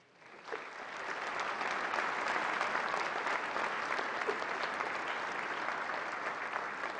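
An audience at a regional education ceremony breaks into warm, sustained applause, dense and even from beginning to end, with a faint murmur of the crowd beneath it.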